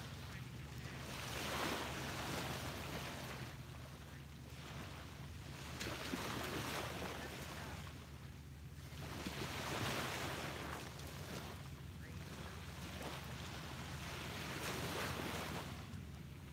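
Small ocean waves wash onto a beach at sunrise in slow, steady surges that swell and recede every few seconds, with a constant airy roar and a low rumble of wind underneath.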